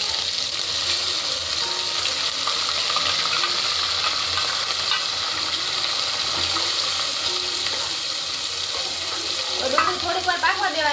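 Onion frying with ginger, garlic and chili paste in a pan, a constant close sizzle with stirring scrapes and clatter of the utensil near the end.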